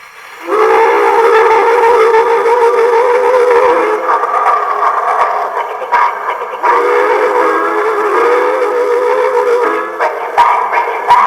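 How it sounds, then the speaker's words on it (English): A train's whistle sounds in long, sustained harmonic blasts, loud and fairly close, then fades into a lower rumbling tone with intermittent clatter. "I hear a train"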